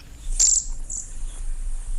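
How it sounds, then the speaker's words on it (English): A wild bird gives one short, sharp, high call, then a fainter second note, against a quiet, low outdoor hum. "There's our mystery bird, but listen, there's more."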